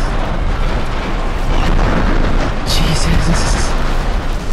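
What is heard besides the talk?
explosion of destroyed target in Just Cause 3 video game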